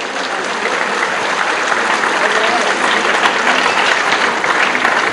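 Sustained audience applause at a political speech in Peshawar, honoring Riaz Sahib: dense, steady clapping from a large crowd, loud and continuous throughout with no pauses.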